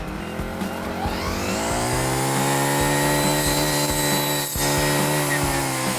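A brush cutter spins at high revs as its blade cuts through a thumb-thick acacia branch, giving a loud, steady motor whine with rising harmonics and a brief dip as the wood gives way, close and continuous, no talking.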